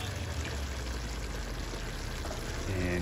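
Coconut milk and French beans going into a simmering beef curry with potatoes and carrots: a dense, steady pouring and bubbling wash, close and continuous.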